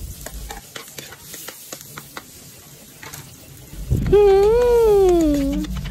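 Chopped garlic and onion go into a hot pan for goat caldereta, giving a sharp sizzle that swells and lingers after quieter stirring and clinks, with a tonal squeal riding on top.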